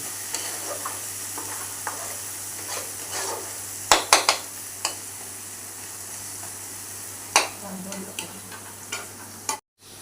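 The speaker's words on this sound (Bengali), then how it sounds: "মশলাটাকে ভালোভাবে নেড়ে নেওয়া হচ্ছে" Spice masala for prawn malai curry stirred and frying in a pan, a constant close sizzle broken by occasional scraping clinks of a spoon against the pan.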